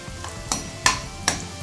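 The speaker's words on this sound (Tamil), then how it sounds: "சோம்பு சேர்த்துட்டு சோம்பு பொறிஞ்சதும் கருவேப்பிலை சேர்த்துக்கலாம் பொரியுது" Fennel seeds fry in hot oil in a pan for a spicy crab gravy: a soft, steady sizzle broken by three or four quick scraping clinks of stirring, close and fairly quiet.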